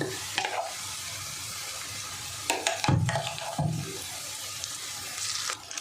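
Ground pointed gourd paste goes into a pan of fried reddened onions, with a steady sizzle under scraping stirs and a few louder clatters of the spatula against the pan.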